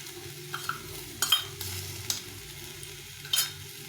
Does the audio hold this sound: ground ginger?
yes